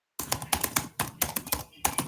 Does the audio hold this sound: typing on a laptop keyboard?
yes